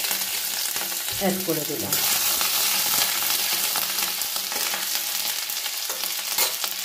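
Grated ginger with black cumin seeds sizzles in hot oil left from frying fish, a loud, dense crackle that swells after a brief stir and keeps hissing steadily; a voice speaks briefly near the start.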